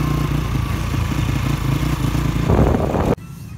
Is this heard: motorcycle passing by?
yes